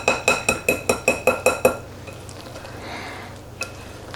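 A whisk clinks rapidly against a bowl while mixing cornbread dressing, about eight quick bright taps in a row, then a quieter stir and one last clink; no voices.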